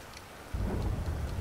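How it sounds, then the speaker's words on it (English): A brief thunderstorm in GTA Online: steady rain hiss with a low rolling rumble of thunder swelling partway through, no voices. "Ooh, thunderstorm."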